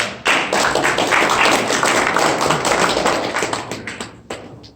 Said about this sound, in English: I'd like a round of applause